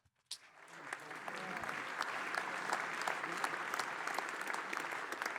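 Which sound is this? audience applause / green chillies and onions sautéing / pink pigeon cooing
audience applause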